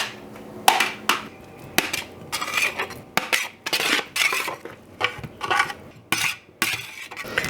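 A spoon repeatedly scrapes and clatters against a bowl as cauliflower salad ingredients are stirred together, producing irregular close metallic knocks and scraping strokes with no talking.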